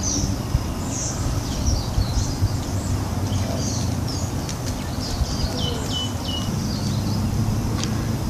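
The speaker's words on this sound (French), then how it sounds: "J'entends des oiseaux, j'entends aussi des poules d'eau." Birds and moorhens call around a pond at Étang Saint-Paul, Réunion, with scattered short chirps and calls repeating over a constant rushing background of wind and water.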